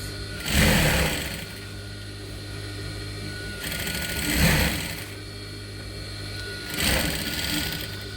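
A sewing machine stitches elastic onto a top in three short bursts of rapid mechanical whirring, separated by quieter pauses with a low steady hum underneath.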